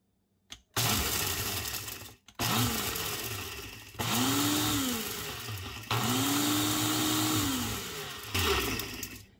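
A blender grinds dehydrated hot peppers into powder in several loud, close pulses, the motor roaring and straining with rising and falling pitch between brief stops.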